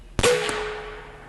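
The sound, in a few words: Umarex AirSaber Elite X2 air rifle shot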